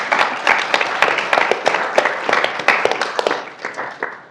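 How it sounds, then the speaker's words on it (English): Audience applause for a panel of speakers at a live event, a dense burst of many hands clapping close by that swells and then gradually thins toward the end. "Let's get a round of applause Thanks. for our panelists."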